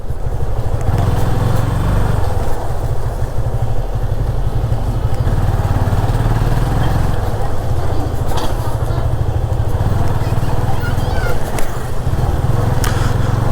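Yamaha FZ25 BS6 motorcycle engine running continuously while riding a rough road, a steady close rumble with wind and road noise throughout.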